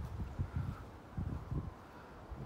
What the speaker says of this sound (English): A little bit of a cool wind.